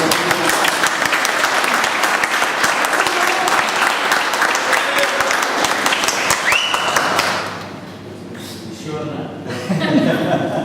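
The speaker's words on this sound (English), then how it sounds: "So please give a huge round of applause." Toastmasters club meeting audience in Bombay clapping for a speaker, a sustained dense round of applause with some chuckling mixed in, fading out near the end as the room quiets.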